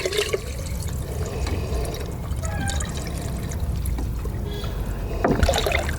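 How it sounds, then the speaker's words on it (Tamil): Water is poured from a 5-litre can into a large clay pot, filling it toward the neck: a loud, steady gushing splash that runs continuously, with a few sharper clunks of the container and no speech. "தண்ணி ஊற்றி இந்த பானையில் இப்போது நம்ம தண்ணி ஊற்ற போகிறோம்"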